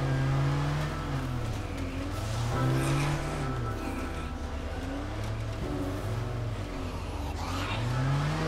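Engine of a vehicle in State of Decay 2 revs loudly and steadily, rising and falling in pitch through several throttle swells with a continuous low rumble throughout, close and prominent with no talk.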